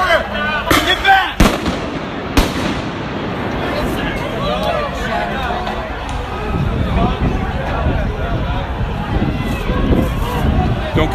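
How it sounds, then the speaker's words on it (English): Loud booms and sharp bangs from pepper spray bombs going off at a downtown Portland street protest, with several sudden blasts early on over a constant roar of crowd noise and babble. "those are pepper spray bombs"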